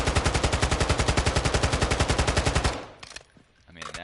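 A tuned automatic weapon fires in a video game firing range, sustained loud rapid fire for nearly three seconds. The burst stops abruptly, leaving a few faint mechanical clicks and echoes.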